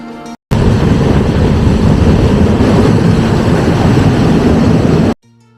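The Brahmaputra Mail passenger train runs at speed, a loud steady broadband rumble and rattle of wheels on rail that starts abruptly, holds for about five seconds, then cuts off.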